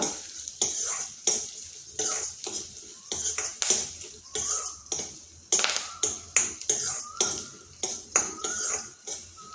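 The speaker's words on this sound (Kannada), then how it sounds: "ಇದನ್ನು ಹಾಕೊಂಡು ಒಂದು ಸುತ್ತು ಹುರಿಬೇಕು ಸ್ವಲ್ಪ" Cranberries or raisins roast in a pan for a sweet-sour gojju while a spoon stirs, giving sharp, uneven metal scrapes and clinks over a faint sizzle, with no one talking.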